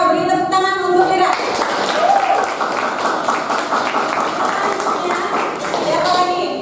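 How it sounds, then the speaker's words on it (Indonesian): A 12th-grade high school class claps for a student, steady applause running throughout with a voice speaking over the start and end. "Terima kasih Lira, beri tepuk tangan untuk Lira."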